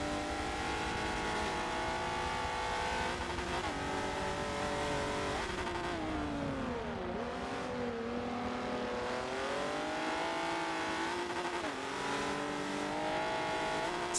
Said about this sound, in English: it's funny listening to people bounce off the rev limiter